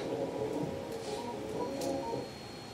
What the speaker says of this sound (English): because I low pass filtered it, I blurred it